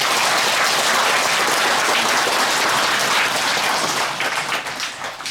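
Dense, sustained applause from a crowd at a Buddhist temple ceremony celebrating a new abbot's inauguration at Gilsangsa, holding steady and loud before thinning out toward the end.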